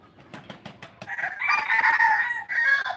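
A rooster crows loudly nearby, a drawn-out call following a few soft clucks and scratchy rustles.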